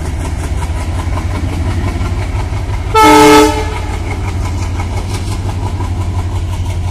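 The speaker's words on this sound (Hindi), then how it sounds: "ये देखिए इंजन ट्रेन का" A train stands at a railway station in heavy rain, engine idling as a steady low rumble, with one loud horn blast of about half a second cutting in near the middle.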